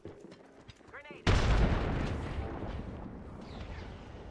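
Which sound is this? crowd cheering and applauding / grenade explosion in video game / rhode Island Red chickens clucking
grenade explosion in video game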